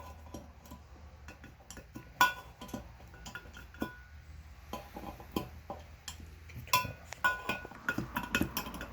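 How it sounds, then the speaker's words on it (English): Screws are tightened in turn on a thermoelectric module assembly, giving small metallic clicks and ticks with light clinks from tools and parts over a steady low background hum. "basically we've just been alternating the 6 screws, tightening them"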